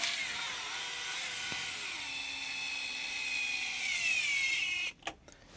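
A cordless drill on a low torque setting drives pan head screws into plastic parts of a custom RC Toyota FJ build, giving a steady whirring whine for several seconds before it stops and a few short clicks follow.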